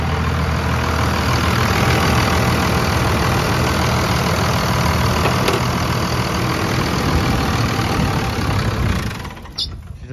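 A second-generation Cummins diesel truck engine runs steadily with a loud, dense rumble inside a dusty shop, then cuts out abruptly near the end as it dies, leaving a brief quieter tail.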